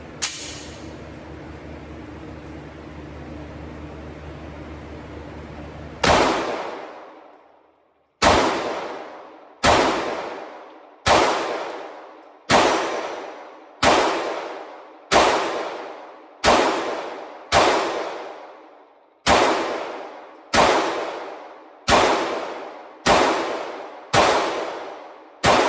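An SDS Mac 9 DS-Comp pistol fires about fourteen sharp, loud shots at an outdoor range, spaced roughly one to two seconds apart, each with a short ringing decay, following a stretch of steady background hum.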